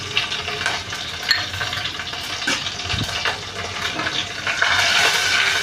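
Mustard seeds, cumin, curry leaves, green chilli and asafoetida crackling in hot oil for a Marathi dal tempering, close and busy with popping and spitting that swells toward the end, no voices.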